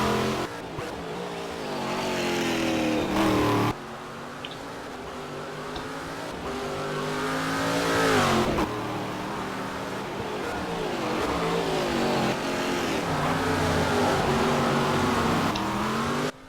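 A race car engine screams and revs on a circuit in a GSC 2012 racing game round at Ribeirao Preto, pitch rising and falling through gear changes, with a sharp drop as the car spins into the first turn.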